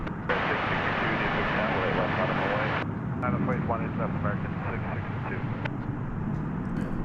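An American Airlines airliner taxiing at night at DFW airport, a steady broad engine roar close by, with a radio voice and a person talking over it.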